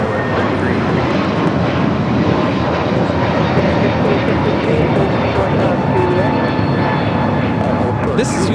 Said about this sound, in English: 2113 taking off to Chicago on the A321neo